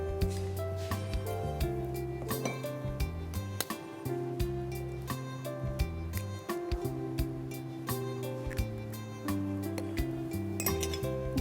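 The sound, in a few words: mixing vegetable cutlet mixture with egg in a bowl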